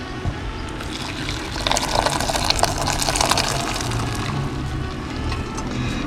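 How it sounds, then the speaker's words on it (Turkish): Cooked dried beans tipped with their cooking liquid into a pan of fried onion, pastırma and pepper, a brief gushing pour and splash rising in the middle over a low background hiss, close by. "kavurduğum soğan, pastırma, biber karışımımın içine hiç suyunu süzdürmeden tamamıyla suyuyla birlikte ilave edeceğim"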